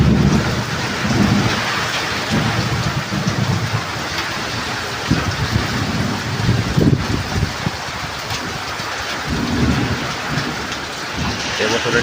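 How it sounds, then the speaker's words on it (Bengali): Heavy rain hammers down over paddy fields during a thunderstorm, a loud continuous downpour with deep thunder rumbling repeatedly underneath. "এবছরের সেরা বৃষ্টি আজ হচ্ছে।"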